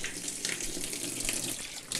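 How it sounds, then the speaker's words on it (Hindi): Water gushing steadily from a hose pipe into the tub of a semi-automatic washing machine, a continuous close splashing rush with no talk. "उसको पानी खोलते हैं"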